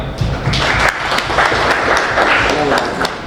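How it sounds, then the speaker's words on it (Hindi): Applause rises from an audience as guests are called to the stage at a RailTel broadband launch ceremony in Lake City, steady clapping mixed with voices in the crowd. "प्लीज तालियां।"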